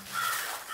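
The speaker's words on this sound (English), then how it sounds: "There, already cawing in a fury as they covered that poor excuse of a scarecrow, was a whole flock of crows." A flock of crows cawing in a harsh, continuous chorus over a scarecrow on a farm, the calls blending into a loud, steady wash without clear gaps.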